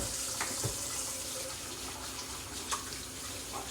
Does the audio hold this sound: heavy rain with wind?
no